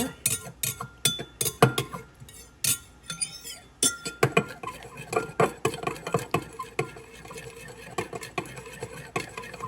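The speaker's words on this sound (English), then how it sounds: "Now, give it a little stir." A spoon stirs microwave-melted butter with corn and garlic in a dish, making a quick run of bright clinks and taps against the container, close and fairly loud, with quieter scraping between strikes.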